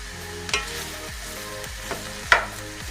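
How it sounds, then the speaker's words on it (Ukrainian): Cabbage sizzling steadily in a hot pan, with a few sharp pops and occasional stirring scrapes. "Поки смажиться наша капуста, підтушується"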